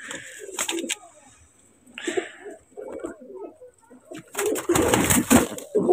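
Pigeons in a home loft with nesting young coo in low, throaty bursts, close by, with scattered rustling and wing movement and a louder flurry near the end.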